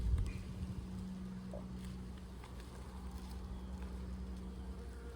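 Honey bees buzzing around a hive, a steady low drone of many insects close by that continues evenly throughout, with no talking.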